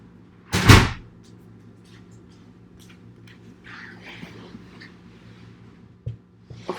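A room door pushed shut with a single loud thud near the start, followed by faint shuffling and a soft knock later, no talk.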